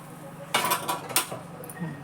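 A lid is set onto a cooking pan with a few quick metallic clanks and rattles in the middle of an otherwise quiet kitchen moment.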